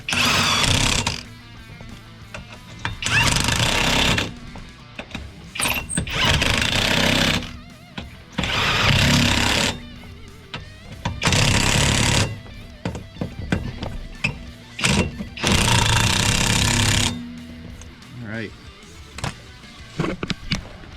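Power impact tool tightening lug nuts on a newly mounted car wheel, loud and close, firing in about six separate rattling bursts of one to two seconds each, separated by short pauses.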